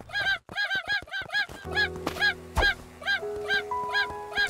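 Chickens in the video game Craftopia give a rapid series of repeated nasal, honking clucks, loud and close, overlapping with sharp in-game effect tones and clicks.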